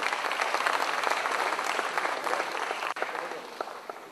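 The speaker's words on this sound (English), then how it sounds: "Can you have a huge round of applause for him?" Audience applause for a panelist at a financial announcement event: a full, sustained round of clapping from a sizable crowd at moderate volume, with a brief dip near the end before scattered claps continue.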